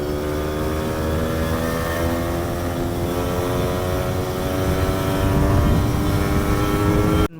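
A Yamaha F1ZR two-stroke motorcycle with a new standard oversize bore piston is ridden on a test ride, its engine giving a loud, continuous buzzing drone that rises steadily in pitch as it accelerates, then stops abruptly.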